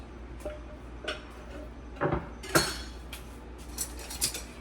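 A spoon stirs bouillabaisse in a huge cooking pot, giving scattered metallic clinks and scrapes against the pot, quiet overall, with a handful of sharper knocks spread over a few seconds.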